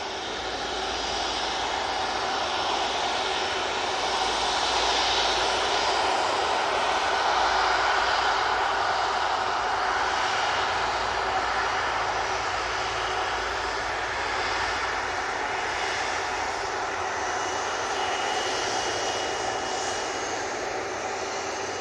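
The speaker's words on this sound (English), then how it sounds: "A330-200 going off to Palma de Mallorca." An Airbus A330-200 jet departs from Manchester Airport toward Palma de Mallorca, its engines a loud, broad roar that swells to a peak midway and then holds a steady heavy rumble, heard alone without voices.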